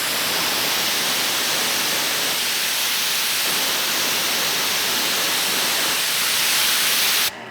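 A Kranzle pressure washer fitted with a 4.0 nozzle sprays a steady, loud hissing jet held close, the broad roar constant for several seconds before cutting off abruptly near the end.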